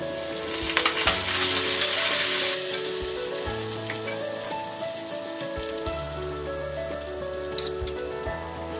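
Hot tempering oil sizzles as mustard seeds, fenugreek seeds, crushed garlic, asafoetida, red chilies and curry leaves fry for South Indian rasam. A dense, steady crackle with a loud burst near the start, close up and without talk.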